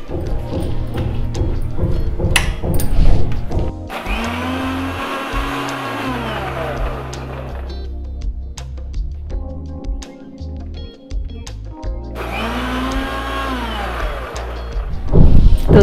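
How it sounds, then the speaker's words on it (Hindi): A mixer grinder purées kiwi and milk in short loud bursts, its motor whining up and rising in pitch, cutting off, then starting again after a quieter pause. "तो अब मैं इसको मिक्सी में पीस रही हूँ।"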